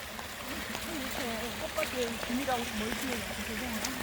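Water flows steadily in the background with a soft trickling wash at a flower garden of kochia plants, while a person talks quietly over it.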